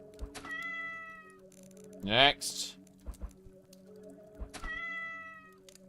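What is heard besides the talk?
cats meowing while taking damage, from video game Cyclopean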